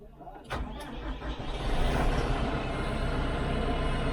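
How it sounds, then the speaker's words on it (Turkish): Zetor Major 80 tractor engine at an agricultural fair, a steady mid-pitched running drone that swells after a brief start and holds evenly, close by, with some voices in the background. "Zetor Major 80."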